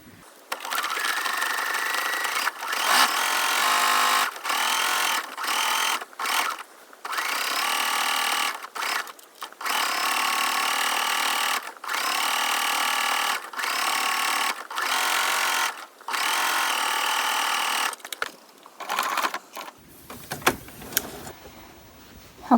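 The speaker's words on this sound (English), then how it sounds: "So now I'm going to top stitch the lace so it lays" A sewing machine top-stitches lace on a doll in long, loud whirring runs broken by short pauses, the motor buzzing close and steady with no talk over it.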